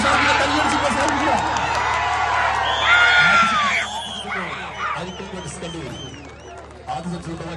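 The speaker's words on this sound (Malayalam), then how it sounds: "എല്ലാവരും കൈയടിച്ച് പ്രോത്സാഹിപ്പിക്കുക." Crowd cheering and shouting with whoops at a lively competition event in Bahrain, loud and sustained, thinning out toward the end, with voices mixed into the din.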